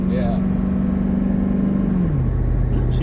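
2000s Ford Lightning pickup engine pulling a load while towing, a steady close drone that drops in pitch as the transmission shifts near the end.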